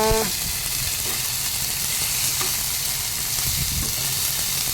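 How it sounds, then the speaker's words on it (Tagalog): Fresh bitter gourd (ampalaya) sautéing in a pan, a steady loud sizzle and hiss of frying with occasional stirring scrapes throughout, no talking. "Ayan na. Gisa-gisa na."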